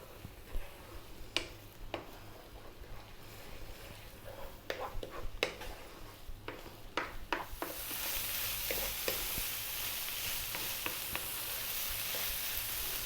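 Ethiopian scrambled eggs and beef stirred in a hot pan, with a run of sharp utensil clicks and scrapes over a quiet fry that swells into a fuller, steady sizzle for the second half, and a faint voice low underneath.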